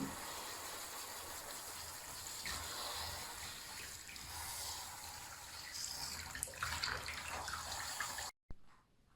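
Water runs steadily from a tap to bathe the pets on a hot day, a continuous, fairly faint rushing that wavers slightly and then cuts off abruptly near the end.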